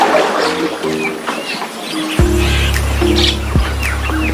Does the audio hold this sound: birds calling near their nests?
yes